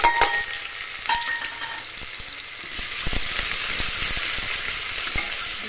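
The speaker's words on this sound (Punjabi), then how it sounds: "ਹੁਣ ਇਹਦੇ ਵਿੱਚ ਆਪਾਂ ਪਾ ਦਿੰਦੇ ਹਾਂ ਕੱਟੇ ਹੋਏ ਪਿਆਜ਼ ਲਸਣ" Chopped onion and garlic hit hot oil in a pressure cooker, giving a loud, close, continuous sizzle that swells after a few seconds, with light clinks of a utensil and no talking.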